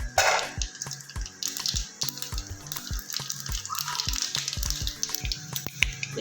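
Mustard seeds crackle and pop in hot oil in a pan, a dense close run of small sharp sputters over a steady sizzle.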